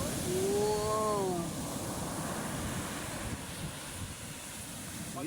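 Big ocean waves crash and roll in a continuous loud wash of surf, with wind buffeting the microphone and a brief tonal cry near the start.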